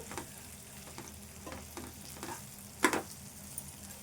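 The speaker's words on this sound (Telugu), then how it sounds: "బెండకాయ ముక్కలు కూడా వేగాలి చాలాసేపు ఇవన్నీ కలిసేదాకా కలుపుకోవాలి" Okra pieces fry in a pan for a home-style okra soup, a soft continuous sizzle with occasional stirring scrapes and one sharper clatter near the end, no talking.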